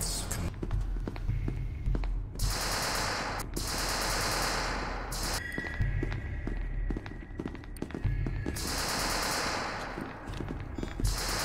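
Video game gunfire rattles in rapid automatic bursts separated by short lulls, loud and close, with footsteps and occasional voices mixed in.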